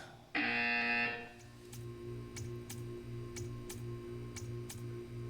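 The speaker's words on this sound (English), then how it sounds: "When you hear the buzzer, stare at the art." A loud, harsh buzzer from the video game Portal 2 blares once for about a second, then fades into a quiet steady tick with faint background hum.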